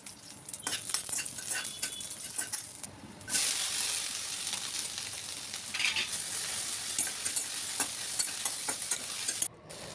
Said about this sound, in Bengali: এবার একটু কালো জিরে আর কাঁচা লঙ্কা দিয়ে একটু নাড়াচাড়া করে নিয়ে ভেন্ডিটা দিয়ে দেবো